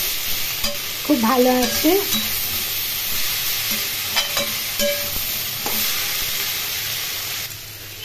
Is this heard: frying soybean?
yes